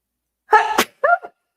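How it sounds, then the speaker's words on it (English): A single loud, close human sneeze with a voiced buildup and a sharp burst, followed by a short voiced exhale or murmur, in an otherwise silent room. "I'm so sorry to have to sneeze on air like that"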